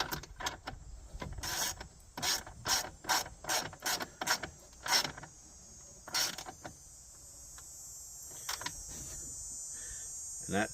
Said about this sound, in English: Snug this bolt up, we'll call it good.